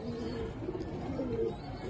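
Pet pigeons coo softly under steady background noise, with low murmuring calls.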